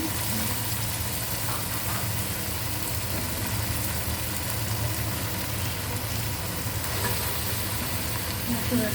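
Rice and mung dal hit hot fried spices in a pan, giving a steady, close sizzle with faint stirring, heard alone without talk.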